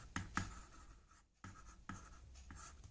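Chalk or marker writing on a board during a Class 10 maths lesson on polynomials, heard as several short scratchy strokes with brief pauses between them and a fairly faint room background.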